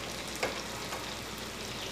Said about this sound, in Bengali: এক পিট ভেজে নিই, তারপরে লাল হয়ে গেলে উল্টো দিকটা তারপরে উল্টাবো।